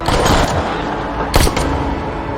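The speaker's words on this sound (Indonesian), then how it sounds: "Namun beruntung Batista sudah ada di sana dan lebih dulu menembakkan senjata kepada Pasco dan anak buahnya" Loud, dense gunfire crackles continuously, with a sharper burst of shots standing out partway through.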